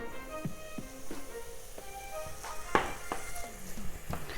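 Onions cooking in olive oil in a hot pan give a soft, steady sizzle, broken by occasional scraping stirs and light taps of a utensil, close by.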